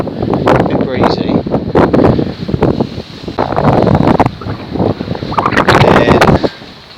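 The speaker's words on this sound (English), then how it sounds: "A bit breezy." Strong wind buffets the microphone on an exposed sea fort off the Kent coast, gusting loud and rough throughout with a steady roar that swells and dips, while a voice speaks at points beneath it.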